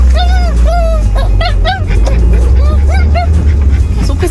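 Several dogs yelp and whine in quick, excited bursts, close by, over a steady low engine rumble inside a vehicle; a person talks intermittently.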